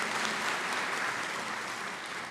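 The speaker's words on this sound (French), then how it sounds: "mais on peut l'applaudir" Applause from a crowd at a formal assembly gathering, dense and even clapping at fairly low level that continues without pause and tapers slightly at the end.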